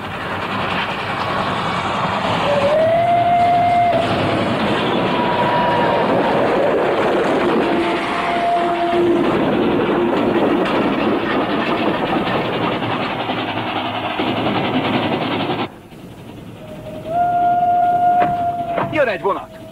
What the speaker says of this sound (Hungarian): Jön egy vonat!